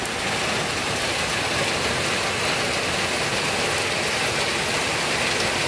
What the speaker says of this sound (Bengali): মুষলধারাতে নামে গেল বৃষ্টি